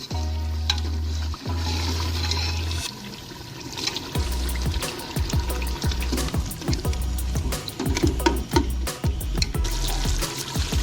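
Tomatoes and spices frying in a pot with tender, slow-cooked mutton for village-style aloo gosht: a steady sizzle broken by repeated clicks and scrapes of stirring, close up, with no talking.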